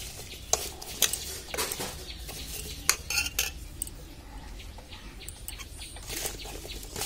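A metal ladle scrapes and clinks against a bowl while mixing mango pickle with oil and chilli powder, giving scattered, fairly close taps and stirring scrapes at an uneven pace. No one speaks.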